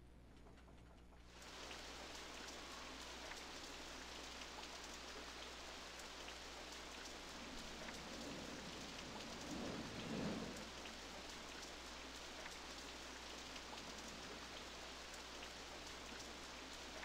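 Heavy rain hisses steadily in RollerCoaster Tycoon 3, with a low rumble of thunder swelling near the middle before easing back into the constant downpour, no voices present.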